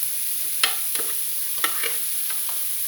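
Minced vegetables for a red wine bolognese sizzle in a pan, with a steady soft fry broken by several sharp scraping stirs of a utensil, close and without voices.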